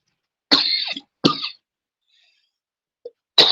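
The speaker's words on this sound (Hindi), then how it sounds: "थोड़ा खांसी से हो गया हमको एकदम" Two harsh coughs in quick succession, close up, followed by a brief throat sound and the start of a third cough.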